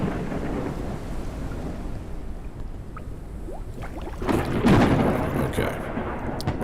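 A thunderstorm with rain in the video game Forever Skies: a steady wash of rain and low rumbling, building to a louder thunder crack near the end, with no talking.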